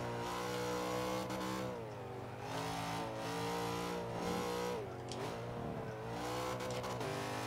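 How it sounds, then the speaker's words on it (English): Nissan GT-R R34 engine in Forza 5, revving hard with rising and falling pitch as it downshifts several times, loud and close throughout with no talk. "Downshift a little bit too much there"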